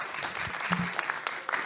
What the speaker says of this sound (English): I think everyone deserves a big round of applause again.